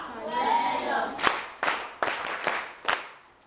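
A voice is heard briefly, then a classroom of students claps in a few sharp, scattered hand claps spaced roughly half a second apart, close and fairly loud.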